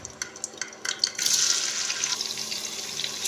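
Sliced onions hit hot oil with whole spices while cooking kaleji masala; after a few light taps, a steady, close sizzle rises and keeps going evenly to the end.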